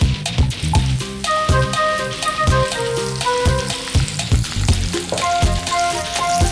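Mustard seeds, cumin and green chillies crackle in hot oil as a tempering for a dry fish and tomato curry, with bursts of popping sizzle under a steady background music bed.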